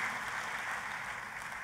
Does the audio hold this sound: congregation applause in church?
yes